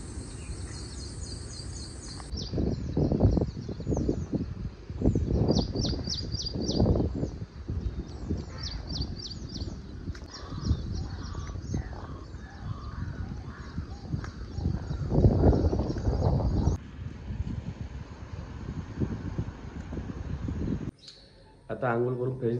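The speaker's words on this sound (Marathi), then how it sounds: "सकाळी सकाळी पक्ष्यांचा आवाज ऐकला किती बरं वाटतं." Crows and other birds call and caw in the morning near a river swollen by overnight rain, repeated calls mid-distance over background noise, with someone talking over them.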